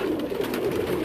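Teddy pigeons on a Karachi rooftop give a low, steady cooing murmur over a continuous background hum for about a second.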